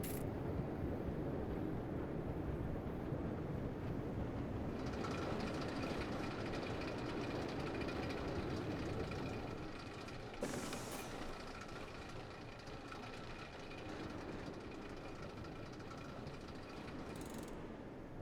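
Trains running along a coaster-style track in the Parkitect park-building game, a steady rolling rumble with clickety-clack wheel noise and occasional brief squeals or bursts, continuous and fairly loud with no talking.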